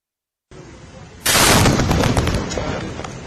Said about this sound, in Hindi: एनएसजी और बम स्क्वाड ने पास ही में एक बड़ा गड्ढा करके कंट्रोल ब्लास्ट के जरिए बम को नाकाम किया